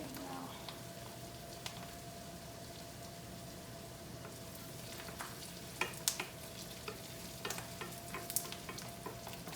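Onions and garlic frying in a pan for risotto, a steady low sizzle throughout with occasional louder crackles and pops toward the end, fairly quiet and with no talking.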